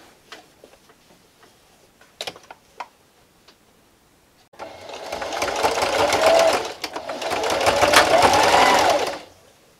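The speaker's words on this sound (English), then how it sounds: "Sew it again and do the other side." A sewing machine stitches fabric for a Halloween treat bag, starting after a few light clicks and then running steadily for about five seconds in one continuous whirring stretch.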